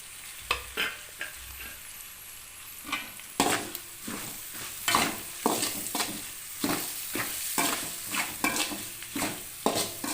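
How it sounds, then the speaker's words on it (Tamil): Onions sizzle steadily in a hot pan while a spoon stirs and scrapes in a regular rhythm, close and clear with no talking. "இப்போ வெங்காயம் கொஞ்சம் நல்லா வதங்கிருச்சு"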